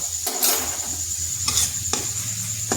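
A small tomato dropped into a hot frying pan for a ridge gourd and egg curry, giving a loud, steady close sizzle broken by a few scraping stirs, with no voices.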